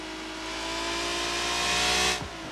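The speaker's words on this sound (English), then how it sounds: "slowly raise the RPMs until we get the over rev warning" A car engine in BeamNG.drive climbs steadily toward its rev limit as the RPMs are raised, a loud rising whine and hiss that holds near the top and then drops off abruptly at the end.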